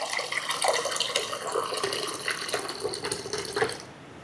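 Water, about one litre, is poured into a strained homemade cooling herbal drink, a steady splashing trickle with bubbling drips that fades out near the end.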